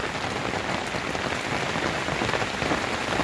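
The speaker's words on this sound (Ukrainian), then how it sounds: "Пішов дощ." Steady outdoor rain falls across a countryside garden, a dense, even hiss of drops pattering on surfaces with no voices and no thunder.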